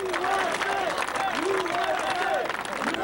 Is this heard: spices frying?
no